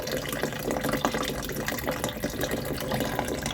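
A toilet cistern fills with running water from a faulty flapper, a continuous close hissing gush of liquid that stays steady throughout without any voices.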